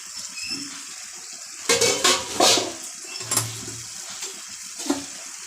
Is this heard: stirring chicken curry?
yes